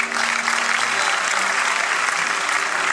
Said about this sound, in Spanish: Bienvenido, pido un aplauso.